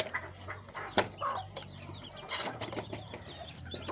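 A Serama bantam hen gives soft clucks in a backyard flock, the calls short and scattered, close but fairly quiet, with a sharp knock near the start and some other faint bird sounds behind them.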